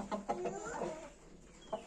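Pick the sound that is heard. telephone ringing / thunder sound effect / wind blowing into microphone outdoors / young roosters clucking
young roosters clucking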